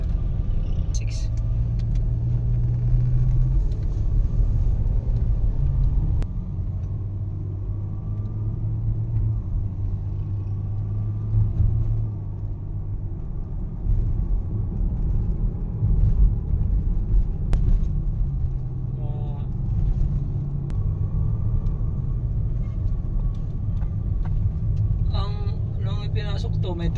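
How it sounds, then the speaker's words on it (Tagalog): A Mazda CX-9 with an automatic transmission fault (dragging, not shifting) on a road test, giving a steady low engine and road rumble throughout, with speech heard over it. "So iro-road testin natin tong sasakyan na to."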